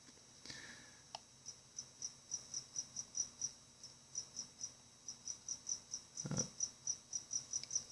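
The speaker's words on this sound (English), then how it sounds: "trying to grab crickets out of these things" Crickets kept in a container chirp steadily, a quick regular series of thin high pulses repeating close by, with a faint thump and rustle partway through and no talk.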